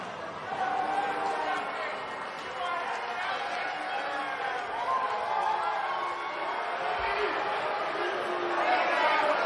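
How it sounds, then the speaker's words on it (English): Arena crowd in the wrestling video game WWE 2K19, a steady dense roar of chatter and cheering that holds throughout at high level, swelling slightly toward the end. "And Michael, it sounds to me like this crowd already picked the one who they want to win this match"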